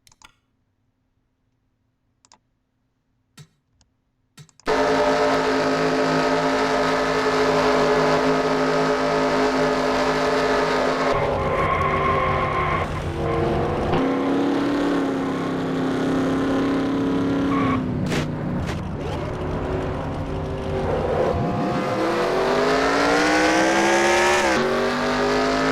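Race trucks roar loudly and continuously from an onboard view in a racing video game, with engines revving through a wreck on the back straightaway, shifting pitch and scraping, after a few seconds of near silence at the start.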